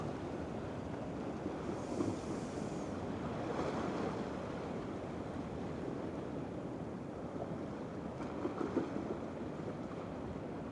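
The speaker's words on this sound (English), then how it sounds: "the water's just starting to crash on these rocks in front of us now." Sea water washes against shoreline rocks at night on a cod fishing trip over rough ground, a soft, rolling surge with wind noise, distant and fairly faint.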